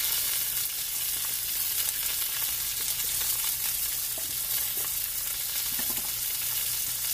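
Pork with chopped onions, garlic powder and pepper frying in a pan, a steady close sizzle with small pops and crackles as the food is stirred, no voices.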